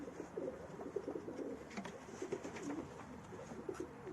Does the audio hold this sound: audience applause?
no